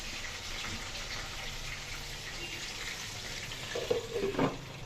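Stingray fish fries steadily in a covered pan, giving an even, close sizzling hiss throughout, with a brief clatter near the end.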